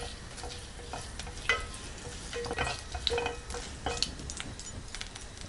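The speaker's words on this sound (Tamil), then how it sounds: "சுண்டல் தாளிக்கிறதுக்கு எண்ணெய் நல்லா காஞ்சதுக்கப்புறம் 1/4 டீஸ்பூன் அளவுக்கு கடுகு, கடலைப்பருப்பு, உளுத்தம்பருப்பு." Steady sizzling of mustard seeds, chana dal and urad dal frying in hot oil, with a few light clinks and stirring scrapes from a pan.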